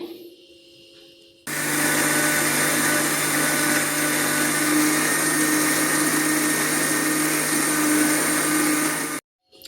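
A mixer grinder grinding tomato chutney with coconut and roasted gram roars into action after a brief pause and runs loud and steady for several seconds, then cuts off abruptly.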